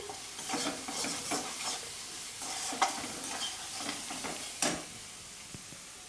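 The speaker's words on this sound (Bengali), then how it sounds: "চিনিটা দিয়ে আমি আরেকটু সময় মশলাটা কষিয়ে নিচ্ছি" Spice masala with sugar sizzles and is stirred in a pan for a niramish potol malai curry, with steady frying hiss and repeated scraping stirs, a couple of sharper clinks standing out, no talking.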